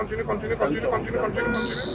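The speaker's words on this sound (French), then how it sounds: "le bip là, le bip, tu entends un bruit et puis tu arrêtes" A breathalyzer with a single-use mouthpiece gives one steady, high electronic beep that starts abruptly and holds until the end, following a stretch of nearby talk.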